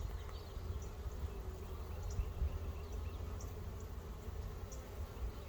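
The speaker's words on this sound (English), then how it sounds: "Watch how quickly the bees know she's there and run to her" Honey bees inside a hive as a laying queen is placed among them, a faint, steady low buzzing hum with occasional soft higher chirps, quiet and without speech.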